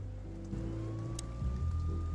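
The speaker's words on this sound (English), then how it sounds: "Well, it is raining." Steady rain falling in a city street scene from the Chicken Police video game, a constant hiss with a low background hum and a faint rising tone, no talking.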